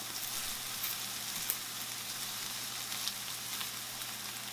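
Eggs and SPAM sizzle steadily in a frying pan while being scrambled, a constant close crackling hiss with occasional small pops and no talking.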